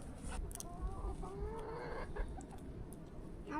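Chickens cluck and murmur close by on a farm, with scattered squawks over steady outdoor background noise and no talking.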